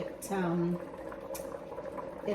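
A pot of stew peas and meat simmers on the stove with a soft, steady bubbling, under a brief voice near the start.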